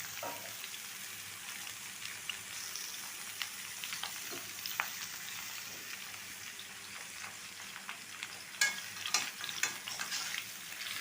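Raw mango pieces fry in hot oil in a pan, a steady soft sizzle with scattered crackles and a few sharper pops toward the end, close and fairly quiet.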